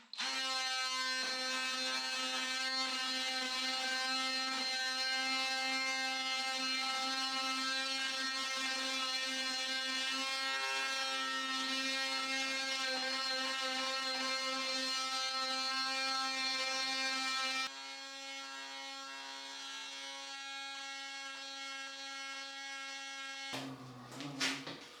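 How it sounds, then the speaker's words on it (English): Power sander running steadily on wooden edges during a low-cost off-grid bedroom renovation, a continuous high whining buzz that drops in pitch partway through and then cuts off near the end. "Just need to now get the sander and sand off the edges."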